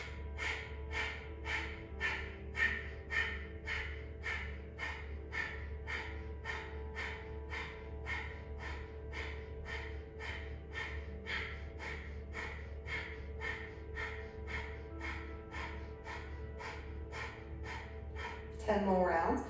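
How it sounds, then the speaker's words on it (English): Rapid rhythmic yoga breathing exercise, roughly fifty quick forceful breaths in a steady pulsing series, close and clear over a low hum, ending with a louder breath near the end. "So it's about 50 breaths at your own pace."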